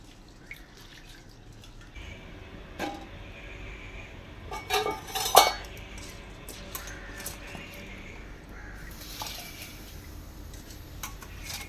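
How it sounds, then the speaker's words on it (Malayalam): Rice being washed by hand in a pot, with quiet sloshing water, drips and occasional clinks against the vessel, one louder splash cluster near the middle. "രണ്ട് കൈ വെച്ച് വേണം നമ്മൾ അരി എപ്പോഴും ഞവടി കഴുകി എടുക്കാനായിട്ട്"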